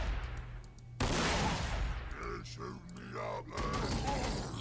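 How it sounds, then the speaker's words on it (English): A tank's battle cannon fires in Warhammer 40k: Sanctus Reach with a loud, booming blast and rumbling tail, amid ongoing battle noise and voices talking. "Battle cannon."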